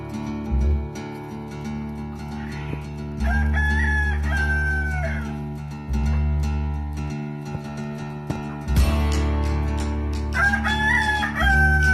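Roosters at a farm raising native chickens crow loudly several times in succession, long drawn-out calls close by, with softer clucking from other hens in between.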